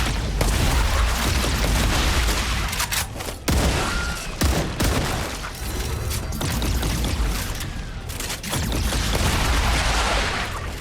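Turrets fire in the StarRupture video game, a loud, continuous fusillade of gunfire and booms that runs almost unbroken for about eleven seconds, with brief dips between bursts.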